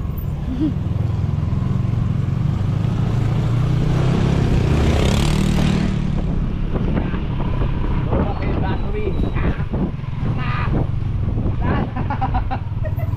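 Boat engine roaring steadily with strong wind buffeting the microphone, a loud continuous rush of motor and water throughout.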